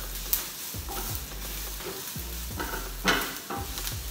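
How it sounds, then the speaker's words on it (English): Onions fry with bacon and mushrooms in a pan, a steady close sizzle running throughout, broken by a few scraping stirs of the utensil against the pan. "essentially we should have put the onions when we put the bacon and the mushroom and then we are letting that cook"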